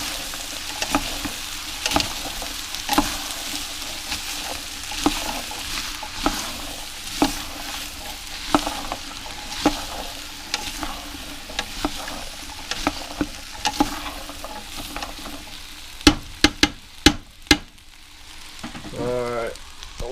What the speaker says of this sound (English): we're going to go ahead and add our potatoes now